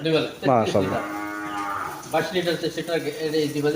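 A dairy cow moos on a farm, a loud, drawn-out close call followed by several shorter lowing calls with no talking.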